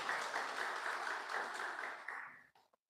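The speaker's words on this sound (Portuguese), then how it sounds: "vamos aplaudir a Deus pela vida do Renato" A church congregation applauds during a worship service, dense clapping that holds steady and then tapers off quickly, ending in a few scattered claps.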